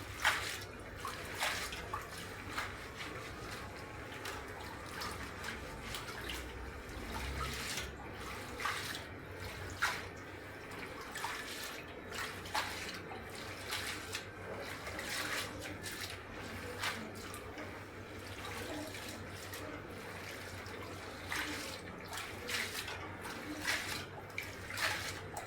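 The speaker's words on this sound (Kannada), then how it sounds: "ಈಗ ಮತ್ತೆ ಸೊಪ್ಪನ್ನ ಚೆನ್ನಾಗಿ ಉಜ್ಜಿ ತೊಳಿಬೇಕು" Water runs from a kitchen sink tap while leafy greens are rubbed and rinsed, a faint, steady trickle and splash with occasional small drips and handling noises.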